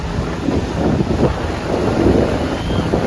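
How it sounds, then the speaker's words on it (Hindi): Strong sea waves surging at Dwarka beach near the temple walls and Gomti ghat, a loud, continuous broadband wash with wind rumble and no pauses throughout. "पानी की लहरें तो देखिए इतनी तेज है।"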